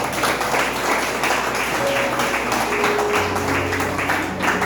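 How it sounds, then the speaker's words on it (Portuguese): Loud, sustained clapping from a church congregation during a Portuguese-language worship service, a constant wash of hands with a few held musical tones running underneath. "as palmas mais fortes"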